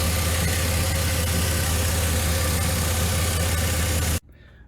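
A 2002 Dodge Stratus with the 2.7L engine runs with a steady, loud drone and a sustained whine for about four seconds before cutting off abruptly into quiet.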